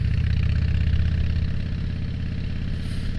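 A motorcycle engine hums steadily while riding a steep, winding mountain road near Denver, Colorado, a close, even low drone with a faint rhythmic pulse and no talk.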